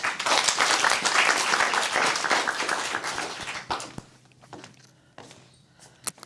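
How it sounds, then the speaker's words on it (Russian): Studio audience applause, dense clapping that swells loud for several seconds, then thins out into scattered individual claps and a few footsteps before fading. "под ваши аплодисменты"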